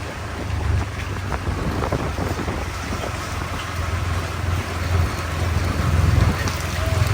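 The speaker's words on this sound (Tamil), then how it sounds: "இப்போ மழை தூருதா" Rain falls steadily in Jaffna, a dense continuous hiss of drops with a low rumbling undertone that swells slightly toward the end, with no talking.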